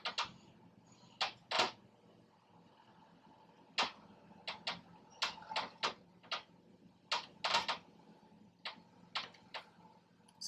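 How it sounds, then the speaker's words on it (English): Irregular creaks and knocks, some sharp and some soft, sound close by at uneven intervals from the straining wooden timbers of a boat. "Sounds like a creaky bed, this boat, doesn't it?"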